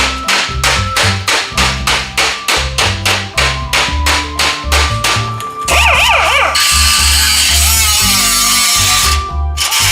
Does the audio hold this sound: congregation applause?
no